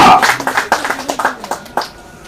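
Applause from an audience at a film press meet: a short burst of claps, loud at first, then thinning to scattered claps that die away.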